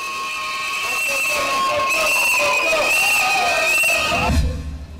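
Crowd at a public gathering reacting to an education decision with whistles, chants and joyful cries, a steady dense din of voices and shrill whistling that swells and holds before a low thump near the end.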